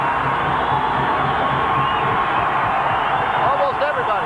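Ice hockey arena crowd at a 1990 college game, Providence Friars at Maine Black Bears, roaring and cheering in a loud continuous wash that keeps going from start to finish, with a broadcaster talking over it.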